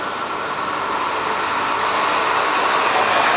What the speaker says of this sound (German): Das war ein ICE 3 Neo.